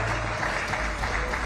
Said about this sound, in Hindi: करीब 20 सेकंड तक तालियों और मोदी मोदी के नारों से नेसेट गूंजता रहा